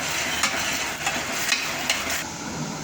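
Ginger garlic paste and chopped capsicum sauté in a pan, giving a dense, steady sizzle with a few soft, regular stirring scrapes, close and even in loudness.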